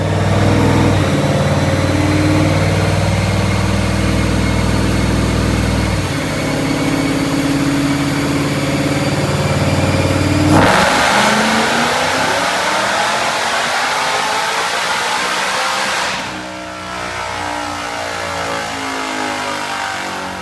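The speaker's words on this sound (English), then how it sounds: "what we're going to do right now is we're going to watch a dyno pull" A 1970 Ford F100 pickup with a Whipple-supercharged Coyote V8 makes a dyno pull: the engine drones loudly, climbs through the revs to a roaring peak with supercharger whine, then drops back toward idle, with no talk.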